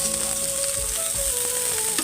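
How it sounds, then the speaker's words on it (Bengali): Diced potatoes and carrots fry in a pan for a dalia upma breakfast, making a brief, close, continuous sizzle with light crackles. "আলু আর গাজরটাকে ভালো করে ভেজে নেব।"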